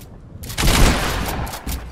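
Gunfire in a Fortnite match: a brief loud burst of rapid shots rattling for about a second, then a second shorter burst, with no talk.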